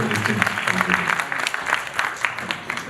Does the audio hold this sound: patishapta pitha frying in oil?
no